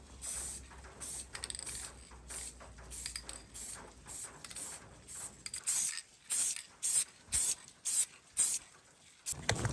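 Short repeated bursts of spray paint hissing onto a gray magazine, about a dozen evenly spaced hisses growing louder and more regular toward the end, close by with no talking.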